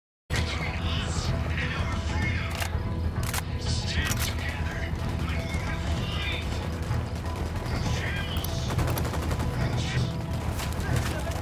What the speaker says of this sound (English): Sniper's got us.